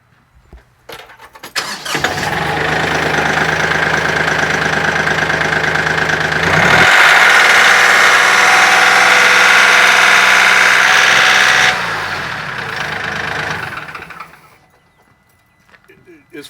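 A compact Kioti CK10 tractor's common-rail diesel engine cranks and catches, then runs loud and steady, revs higher for several seconds, drops back to idle and shuts off.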